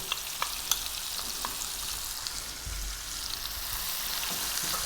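Onions, garlic and celery fry over medium heat in a pot for a lamb stew, giving a steady close sizzle with faint scraping and stirring clicks throughout, no talking.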